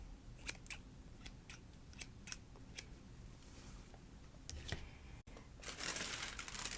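Scissors snip through paper at a craft table in a series of crisp, quiet clicks and slices, followed by paper rustling and crinkling, soft and close in a hushed setting.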